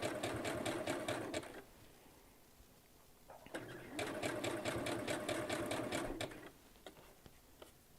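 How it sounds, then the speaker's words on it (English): A sewing machine stitches a notebook cover in two long bursts of fast, even running, split by a short pause and trailing off into quieter stops at the end. "am I really sewing just this?"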